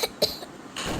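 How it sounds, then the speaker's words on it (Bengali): Person coughing indoors, two quick dry coughs close by, followed by quiet room tone. "কাশি চলে আসছে তো গাইস"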